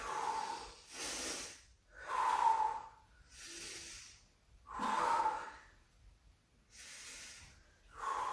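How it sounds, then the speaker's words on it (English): Slow, deep breaths during a home full-body workout, heard close up as soft hissing inhales and exhales in a steady rhythm of about six breaths, with quiet pauses between them. "Couple of big breaths."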